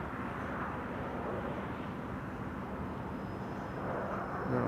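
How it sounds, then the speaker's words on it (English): A propeller aircraft at Amsterdam Schiphol Airport drones steadily in the distance, a constant broad engine hum with no voices. "I am definitely hearing propellers over there somewhere."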